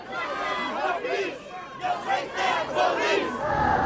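Crowd of street protesters shouting and chanting together, rising and falling voices in repeated surges, loud and fairly close, with the massed yelling carrying continuously throughout.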